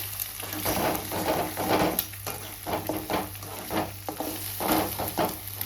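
Four beaten eggs frying in a pan for egg bhurji while being stirred, a continuous sizzle broken by repeated scraping strokes of the spatula, close and moderately loud with no talking.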